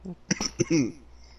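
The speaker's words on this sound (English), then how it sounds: "now I can't stop coughing because I was laughing so much" A bout of coughing right after hard laughter: several sharp, close coughs in quick succession, ending in a longer rasping hack, loud and alone with no talk.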